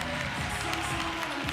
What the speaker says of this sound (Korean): 더 큰 힘찬 박수 부탁드립니다.